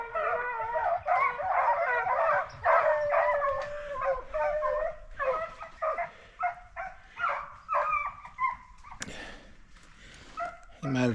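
Hunting dogs bay, howl and yip at a bobcat treed in the woods. Their calls rise and fall in overlapping bursts, and a sharp burst of noise near the end breaks the chorus.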